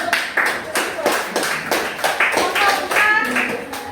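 A small group, likely students in a classroom lesson, claps hands in a quick, uneven rhythm of distinct sharp slaps, close and fairly loud, with faint voices mixed in.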